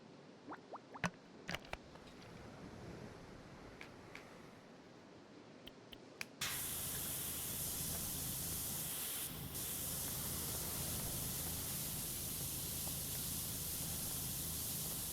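In the PowerWash Simulator video game, a pressure washer nozzle of modest power kicks in after scattered clicks and quiet moments, then blasts a loud, steady, hissing spray that runs unbroken to the end without speech.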